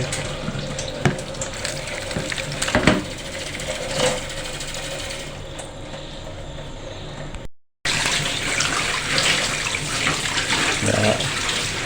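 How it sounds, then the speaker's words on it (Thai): Giant catfish pieces are rinsed in rice-washing water to make sour fermented fish: water runs and splashes steadily, cuts out briefly, then resumes with close, bright sloshing. "ก็ จะมาทำการล้างครับ ล้างสักสองน้ำ"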